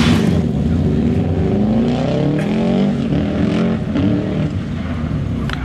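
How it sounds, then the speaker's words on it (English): Two Ford Escort rally cars race together on a live rally stage, engines loud and close, rising and falling in pitch as they accelerate and rev continuously with no pauses. "You've got two Escorts here now on the track at the same time."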